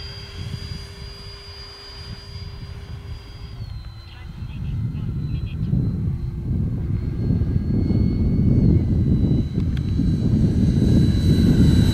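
An FMS Super Scorpion 70mm RC electric ducted-fan jet flies past with a steady high whine that drops in pitch and then swells into a louder rushing roar, while people talk over it.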